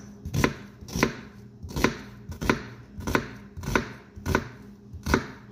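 A knife chopping tomato and onion on a cutting board, eight sharp, evenly spaced chops about every two-thirds of a second, close and clear with no voices.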